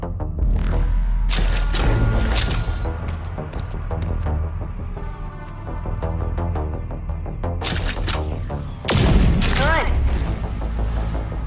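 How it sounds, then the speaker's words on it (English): Heavy shotgun blasts from the overdrive mode in RAGE 2, fired at simulated enemies: several loud, booming shots with sharp attacks and rumbling tails, layered over dense game effects and music. "Shotgun's overdrive against the simulated enemies."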